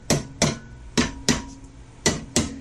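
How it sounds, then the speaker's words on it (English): Six sharp metallic taps from a hammer on a stuck torsion bar of a 1967 VW Bus, in pairs, each ringing briefly before fading, close and clear with no talking. "I tapped on it with a hammer like this,"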